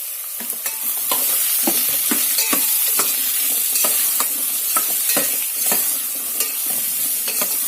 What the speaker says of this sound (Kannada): ಉಳ್ಳಾಗಡ್ಡಿ ಬೇಯುತ್ತನ ಫ್ರೈ ಮಾಡಬೇಕು